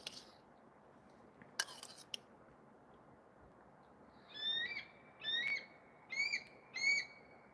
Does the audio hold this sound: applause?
no